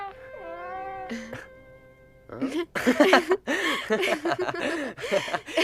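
A cartoon cat gives a long, wavering meow followed by a shorter cry, and then animated voices take over with lively, chuckling exchanges.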